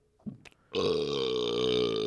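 A single long, loud human burp, close to the mic. It rises abruptly after a few small mouth sounds and holds a droning, voiced tone for over a second.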